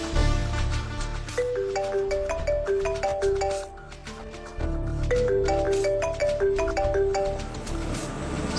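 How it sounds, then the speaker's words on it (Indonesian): A phone plays a melodic ringtone of repeated tonal note sequences over a background music bed, two loud phrases separated by a brief dip, with no talking. "Sebentar ya, Ibu angkat telepon dulu."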